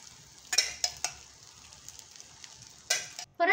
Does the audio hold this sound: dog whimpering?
no